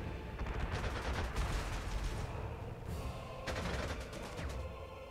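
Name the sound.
aircraft strafing gunfire in video game Panzer Corps 2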